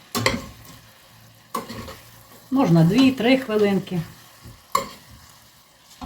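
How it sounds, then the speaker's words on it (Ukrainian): A spoon scrapes and stirs peppercorns frying in a pan amid soft sizzling, with a short spoken phrase in the middle and a couple of sharp knocks. "Все перемішую і смажу приблизно одну хвилинку"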